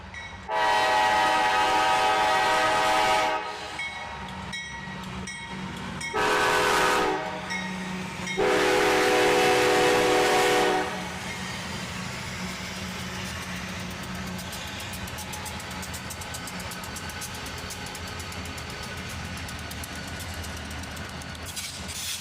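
A freight train led by a YN2-painted AC44CW locomotive passes close and loud, sounding several long horn blasts over rumbling engines, then the wagons roll by in a steady rattling clatter.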